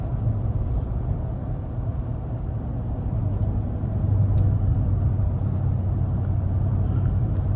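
A 2023 Nissan Titan Platinum Reserve pickup's engine pulls hard under full throttle, a steady low rumbling drone with road noise that swells slightly louder partway through and holds there.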